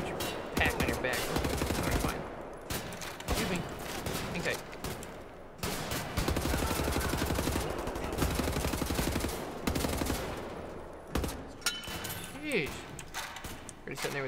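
Gunfire in Wolfenstein: The New Order comes in dense bursts of rapid, loud shots, broken by short gaps, while voices talk over the action.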